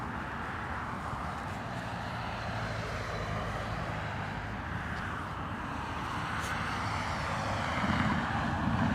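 An Aer Lingus A320 airliner lands at Dublin Airport in a crosswind, its engines a broad, steady roar held at a moderate distance and swelling slightly toward the end.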